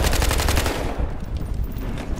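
A G36C assault rifle fires in Battlefield Hardline team deathmatch: a loud, rapid automatic burst of sharp cracks opens the clip, then blurs into a dense, continuous rumble of game gunfire and noise.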